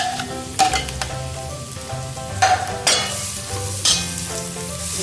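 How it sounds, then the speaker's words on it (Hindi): Four finely chopped onions sizzle steadily in a cup of hot oil in a pan for biryani, a continuous crackling fry with occasional louder spits and stirring clatter, no voices. "मेरे प्याज फ्राई होना शुरू हो गई।"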